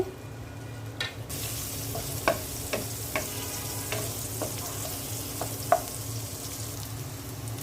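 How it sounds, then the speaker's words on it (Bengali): Onions fry in oil left from frying fish, a soft steady sizzle punctuated by several light scrapes and knocks of stirring, with no voices. "মাছ ভাজা তেলের মধ্যে পেঁয়াজ দিয়ে দিচ্ছি"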